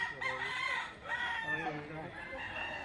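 A gamecock crows in a long, strained call, with a second crow right after, close and fairly loud over faint background chatter.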